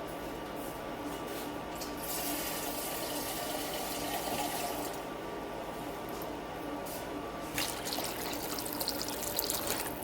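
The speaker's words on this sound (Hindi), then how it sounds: "थोड़ा सा पानी और जाएगा इसमें।" Water is poured into a cooking pot of browned chicken for nihari, a steady running, splashing pour that holds for several seconds with a brighter splash near the end and no talking.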